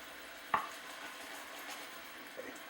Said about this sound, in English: continue to cook it for 3 minutes, stirring occasionally and scraping out the little bits that accumulate